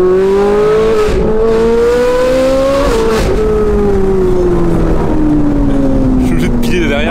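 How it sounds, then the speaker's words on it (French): A Ferrari engine with an aftermarket IPE exhaust holds a steady, sustained high-pitched whine, with pitch dipping and rising slightly as the engine revs, loud and close throughout. "J'ai fini avec une ligne IPE qui a un bruit extrêmement aigu."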